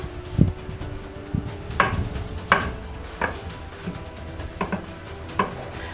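Groundnuts heating in a saucepan are stirred slowly, giving scattered close clinks and scrapes of a utensil against the pan at an irregular pace, without speech.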